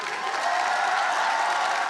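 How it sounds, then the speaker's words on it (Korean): A crowd gives a standing ovation at Harvard's commencement as the university president takes the podium, a dense, steady wash of clapping and cheering from a large audience. "하버드대 총장이 졸업식 연단에 올라 입을 떼자 1분이 넘는 기립 박수가 이어집니다"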